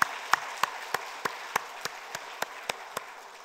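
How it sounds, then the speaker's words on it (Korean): Slow, evenly spaced clapping in a church congregation blessing guests, about a dozen distinct claps in a steady rhythm, fairly quiet and sparse against a faint room hum. "박수로 축복하겠습니다"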